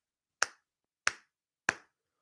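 Three single, evenly spaced claps from one person, a polite golf clap, each a short sharp crack about two-thirds of a second apart, close and clear against silence.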